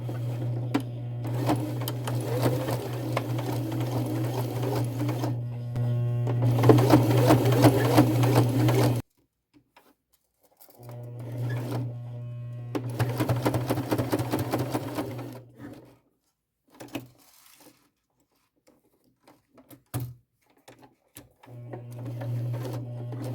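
Leather goes through a sewing machine in a small straight stitch with all-purpose Coats & Clark thread, the motor whirring in long steady runs and stopping between them, loud and close with no talk.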